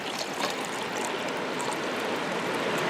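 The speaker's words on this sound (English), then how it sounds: "This pot here, I'm going to fill it up to right around the 500 milliliter mark." Water pours steadily into a camp pot for bushcraft coffee outdoors, a continuous close splashing rush with no voices over it.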